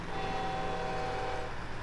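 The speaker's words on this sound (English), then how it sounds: "why does it have a freight train horn on it?" A freight train horn fitted to a truck mod in the video game Snowrunner blares as one steady, loud, sustained chord lasting almost two seconds, with no talk over it.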